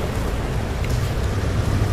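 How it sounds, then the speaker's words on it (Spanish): Running water in a Battlefield video game map fills the scene with a steady, loud rushing hiss and low rumble, constant throughout with no talk. "Hay agua. Se oye agua, ¿eh?"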